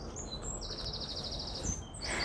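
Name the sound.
birds singing in sunny garden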